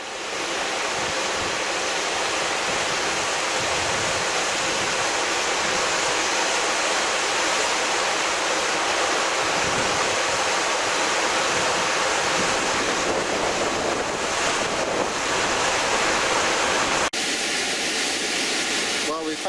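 A waterfall and rapids in a Scottish glen roar as a dense, unbroken rush of water, loud and close throughout with no pauses.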